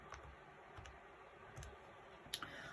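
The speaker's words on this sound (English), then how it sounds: "you can just grab your calculator and type this onto your calculator in one step here" Calculator keys pressed in a few sparse, light clicks with gaps between them, quiet and close, no talking.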